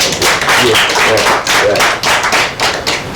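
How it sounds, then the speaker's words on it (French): A television studio audience claps loudly and close, in surging, uneven bursts of dense applause with no talk over it. "on applaudit pour cela"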